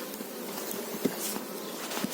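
A dense, steady buzz of honey bees close by, continuous and droning with no pauses and no voices.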